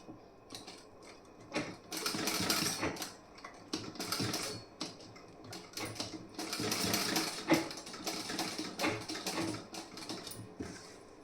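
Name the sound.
sewing machine stitching fabric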